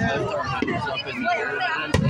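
A few sharp firework bangs burst out over a steady hum of crowd chatter at a Canada Day celebration, the loudest one near the end.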